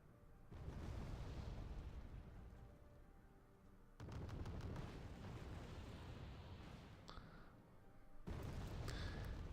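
Bombing run explosions in Wargame Red Dragon: three heavy, rumbling blasts arriving one after another, each a loud sudden boom trailing off into a long roll, with some faint crackle between them and no talk.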